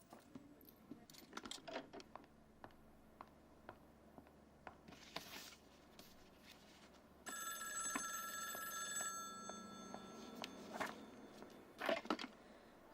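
A telephone rings for a few seconds amid quiet room clatter and scattered taps, moderately close and fairly faint, with no speech over it.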